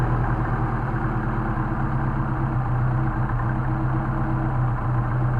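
A Mercedes 190SL engine with Solex carburetors idles steadily and close by, a continuous low rumble with an even pulsing beat that holds throughout, with no talk over it.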